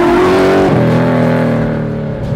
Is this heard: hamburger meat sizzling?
no